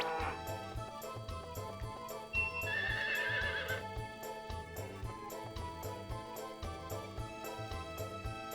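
A horse in a video game neighs with a loud, high whinny lasting about a second, set over steady looping game music with a repeating rhythmic bass pattern throughout.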